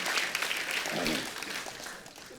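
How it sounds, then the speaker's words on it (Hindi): A TV comedy studio audience on The Kapil Sharma Show applauds, a full wash of many hands clapping that swells and then slowly fades, fairly faint overall. "एक बार जोरदार तालियां हो जाएं।"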